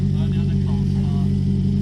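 Engine rumble from a previous-generation Volkswagen Golf GTI diesel with a big exhaust, a steady low drone throughout at a car show, with people talking over it.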